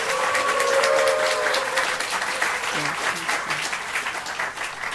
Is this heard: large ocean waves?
no